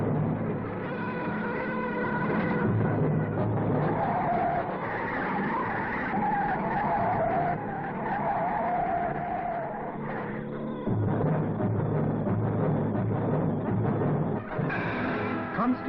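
A Rolls-Royce lock-to-lock rig at Crewe turns a car's power-assisted steering from one full lock to the other, producing a loud, sustained squealing tyre scrub with tonal whine that runs almost continuously with a short break.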